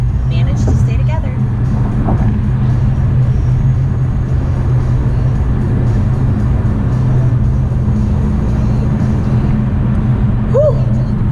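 Steady low road rumble from inside a car on a highway in heavy traffic, constant and loud throughout, with voices talking over it.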